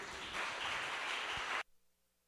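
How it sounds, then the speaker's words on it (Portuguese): Church congregation applauding during a worship service, a dense steady wash of clapping that cuts off abruptly, leaving quiet room tone. "Uma salva de palmas para Jesus."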